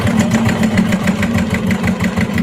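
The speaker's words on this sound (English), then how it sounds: "you're going to just go back stitch once or twice" A sewing machine back stitches through clear vinyl with a loud, steady motor hum and a rapid, even needle clatter, heard close and alone.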